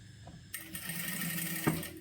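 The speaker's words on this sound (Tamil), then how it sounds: "இதே மாதிரி ஒவ்வொரு பீஸாக வச்சு தையல் போட்டுனே போயிடலாம்" Sewing machine stitching pieces of a blouse neck design in a tailoring setting, a steady mechanical whir starting after a short pause and running close and continuous for over a second with a brief clack.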